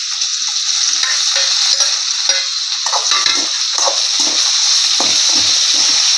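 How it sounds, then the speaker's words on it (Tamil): Loud, continuous sizzling of onions and tomatoes sautéing in oil for veg kurma, with scattered pops and the clink of stirring throughout. "இப்போ நம்ம வெங்காயம் தக்காளி வதக்கலாம்"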